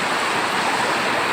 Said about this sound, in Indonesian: Deras airnya Bang, deras airnya, jangan lewat.